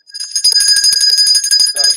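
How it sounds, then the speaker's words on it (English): Small bells ring in a quick, bright jingle, several tones shimmering together, close and clear for about two seconds. "7 lucky bells to keep away the evil spirits"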